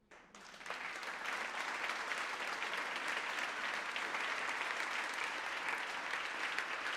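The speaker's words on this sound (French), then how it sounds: "Applaudissez-la" Sustained audience applause at the Hello Women 2023 event: after a brief quiet start, a broad wash of many hands clapping rises quickly and holds steady and full.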